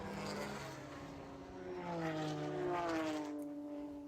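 A Porsche race car accelerating at Laguna Seca raceway, its engine note climbing steadily in pitch as it pulls away, heard at moderate distance with a continuous droning tone.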